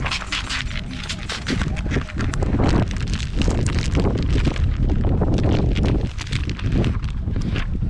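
Strong wind buffets the microphone outdoors beside a 1987 Monte Carlo SS during a tint job, roaring in loud, irregular gusts that rise and fall throughout.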